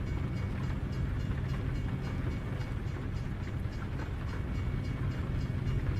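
A video game train rumbles along in a steady, loud, continuous drone with a faint clattering texture, no voices over it.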